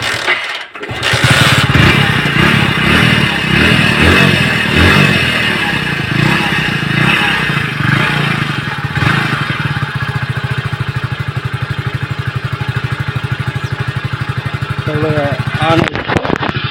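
A Hero Splendor Plus BS6 motorcycle with a fault that makes it die at slow speed or when the clutch is pulled runs close and loud, a steady rhythmic engine chug that continues throughout with slight changes near the end.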